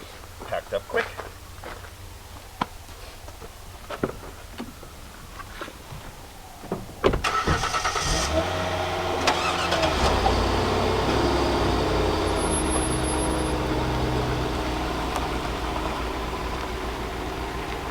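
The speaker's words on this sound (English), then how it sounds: "So we're gonna just throw this in the car, drive away" Car doors thump and clatter first, then an SUV engine starts and settles into a steady running drone as the vehicle pulls away from a campsite; a voice talks briefly.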